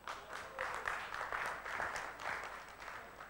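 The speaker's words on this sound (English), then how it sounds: "A round of applause for the table who has done first." Applause in a workshop room for the first table to finish a speedboat innovation game: a modest group clapping steadily for a few seconds, fairly quiet and without talk.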